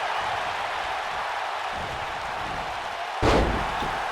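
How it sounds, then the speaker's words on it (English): Wrestler slammed hard onto the ring mat by a T-bone suplex, one loud heavy thud bursting out of a steady background of arena crowd murmur, followed by a brief ringing decay. "Another T-bone suplex."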